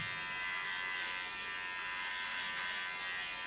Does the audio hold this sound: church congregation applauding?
no